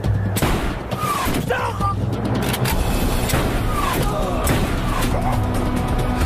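Gunfire in a French action film: sharp shots and impacts crack through a dense mix of engine rumble and shouted voices, with several loud bursts spread across the scene.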